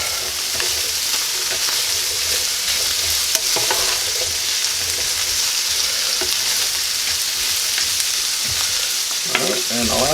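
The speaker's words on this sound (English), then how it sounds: "Stir it around just a little bit more so we get them good mixed in here" Smoked sausage hash with potatoes fries in a pan, a constant bright sizzle heard up close, with occasional scrapes and knocks as the mixture is stirred around.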